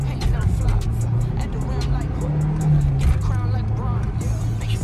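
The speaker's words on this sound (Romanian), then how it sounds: "Merge bine mașina, să fiu sincer acum." A biturbo car drives along with a steady, close engine drone and road rumble from inside the cabin, continuous throughout, while someone talks over it.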